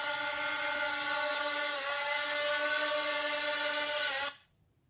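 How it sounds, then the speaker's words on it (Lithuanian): A drone's buzz is picked up by a homemade drone-detection prototype: a steady loud whine with strong even overtones that holds for about four seconds, then cuts off abruptly into near silence. "aptinka tą drono garsą."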